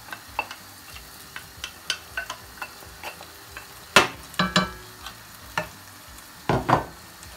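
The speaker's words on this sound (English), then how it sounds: "And stir it" Onion and tomato stirred in a frying pan: a soft sizzle underneath with a series of sharp spoon scrapes and clinks against the pan, irregular and close, several louder knocks near the middle and end.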